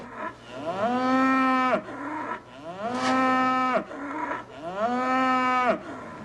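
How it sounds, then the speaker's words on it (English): Calves at a state fair moo in three long, loud, drawn-out calls, each rising and holding before breaking off, close by with no talk. "You say moo."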